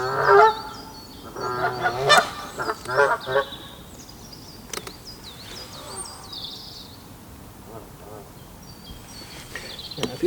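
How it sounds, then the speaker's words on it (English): Geese honk loudly near a stillwater fishing spot, with several clustered calls in the first few seconds and scattered honks after them. Birdsong and outdoor ambience fill the background. "the geese will now be coming out of your right speaker"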